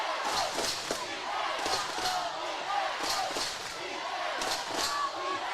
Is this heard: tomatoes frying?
no